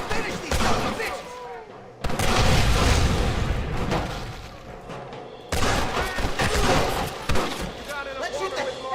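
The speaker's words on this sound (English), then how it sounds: "Let's shoot the hell out of these cowards." Gunfire rings out in a Red Dead Redemption shootout in New Austin: bursts of rapid, booming shots with sharp onsets and echoing tails, arriving in heavy volleys separated by brief lulls while voices talk over the action.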